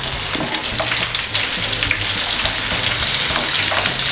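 Mirchi bajji chili fritters fry in hot oil, a loud, continuous bubbling sizzle punctuated by the scrape and clink of a spoon turning them in the pan.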